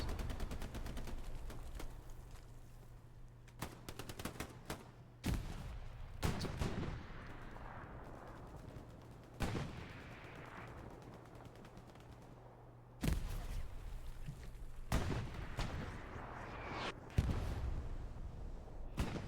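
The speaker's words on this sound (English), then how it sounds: "Oh, that artillery is hitting good." Artillery fire landing in a multiplayer World War II shooter scrim, heavy booming impacts arriving irregularly every second or few seconds amid sharper gunshots, loud against a low rumbling background, without speech.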